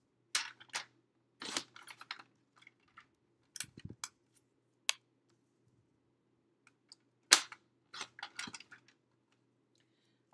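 Scissors snip along the excess paper edges of an alcohol ink art card in short, close bursts of crisp cuts separated by quiet pauses, with a faint hum underneath.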